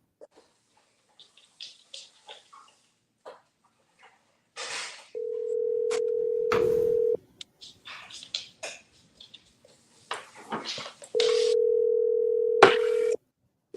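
A telephone line gives two long steady ringback-style tones, each lasting a couple of seconds, separated by short clicks and scattered bursts of handling noise and a cough-like sound, with no talking.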